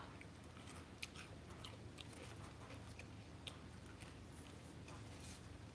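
Someone chews crunchy, dried-out matcha cookies, making faint, close crunching and biting sounds with a few sharper cracks over a soft, steady background.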